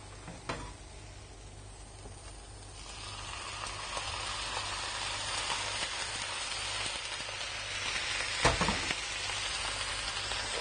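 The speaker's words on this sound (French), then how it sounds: "une fois que le mélange est bien chaud, on place les brocolis à l'intérieur" Broccoli drops into a hot pan of lemongrass, onion and galangal and sizzles. The hiss is fairly quiet, then swells after a few seconds into a steady, rain-like frying, with a couple of sharp clunks.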